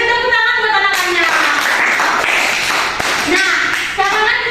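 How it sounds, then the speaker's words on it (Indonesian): Children clap their hands together in a classroom, a dense, scattered burst of clapping that lasts for several seconds over a noisy room. "bisa saya tepuk tangan buat anak-anak"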